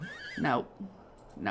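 A horse in The Sims 3 gives a short, high, wavering whinny at the start, then a voice speaks briefly over the game sound.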